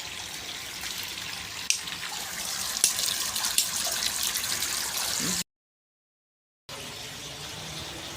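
Water gushes and splashes forcefully from a pump outlet, a loud, continuous rushing spray with a few knocks, cutting out briefly before resuming.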